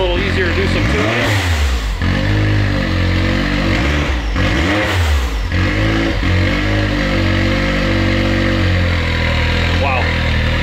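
Can-Am Maverick X3 side-by-side with an aftermarket exhaust, tuned with the clutch cover off and running on E85, revving loudly and close by in repeated throttle blips that settle into a steady idle-like drone.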